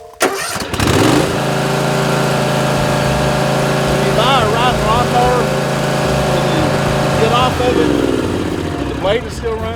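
A brand-new riding lawn mower engine starts with a burst, then runs loud and steady close by, while people talk over the drone.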